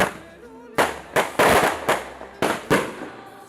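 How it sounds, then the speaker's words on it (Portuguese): Fireworks and firecrackers burst in a rapid series of sharp, loud cracks during a religious celebration honoring Padre Cícero in Juazeiro do Norte, with a faint voice in the background. "nos fogos estourados em gratidão"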